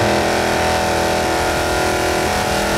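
Car engine in a BeamNG driving game, a Dodge Challenger Demon running hard as it blows up, a loud, strained, continuous mechanical roar with shifting harsh tones, with no talking.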